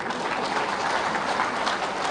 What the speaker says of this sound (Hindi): फिर एक बार ताली बजाओ त्रिदेव के लिए भी